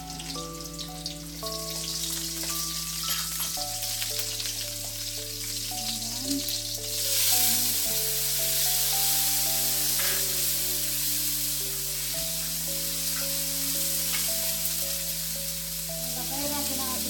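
Garlic and onion sautéing in a pan for a pork and bottle gourd dish: a steady, close sizzle and crackle of frying runs throughout under background music.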